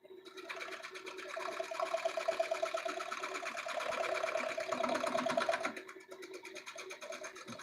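Wood lathe turning a lampshade, cutting shavings: a steady whirring, buzzing drone with a faint rhythmic chatter, holding for several seconds before it eases off near the end.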